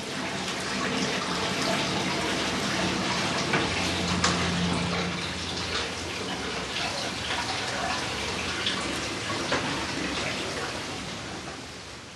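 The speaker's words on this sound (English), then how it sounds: "Hot water is added to reheat and rinse the contents." Hot water pours steadily into a tub on a beeswax press, a continuous splashing hiss that stays even and fairly close for the whole stretch before easing slightly at the end, with no talking.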